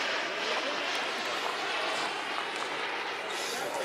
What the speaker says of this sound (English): And we got a gorgeous Bob Violet F86 on the runway.